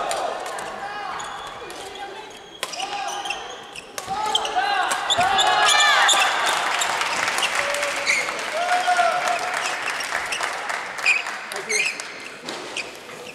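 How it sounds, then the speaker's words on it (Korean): Sustained applause and clapping from a crowd at a men's doubles semifinal badminton tournament, steady and fairly loud for the whole stretch with scattered sharp claps and no speech. "선수님께 박수 한 번 더 부탁드리겠습니다"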